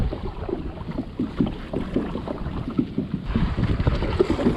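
Wind blows over choppy, white-capping water around a kayak, a steady rough rush with buffeting gusts and lapping close to the microphone, louder toward the end.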